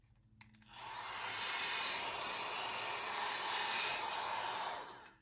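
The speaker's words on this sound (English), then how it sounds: "It is a hot air curling brush, and it is made by Conair." A Conair hot air curling brush blows a steady, loud rushing stream of air for about four seconds close by, used to push alcohol ink across a painting, starting and stopping with a few small clicks.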